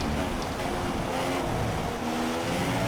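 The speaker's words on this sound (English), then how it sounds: "You can hear the growling sound of the McLaren Honda behind us." A McLaren Honda Formula 1 car in the F1 2016 racing game growls steadily from behind, a continuous dense engine drone with shifting harmonic tones, loud and unbroken throughout.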